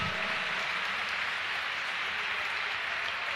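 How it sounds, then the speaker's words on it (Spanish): A church congregation applauds loudly and steadily, a dense, even wash of clapping that holds without pause and without voices on top. "Por favor, aplauda fuerte al Rey de Reyes y Señor de Señores."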